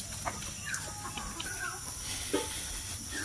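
Laying hens on a small farm cluck softly in short, scattered bursts over a steady hiss of background noise.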